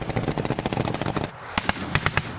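Rapid bursts of gunfire crack out during a live-fire military drill in Taiwan, a loud, fast rattling string of shots that briefly pauses and then resumes with sharper, more spaced reports.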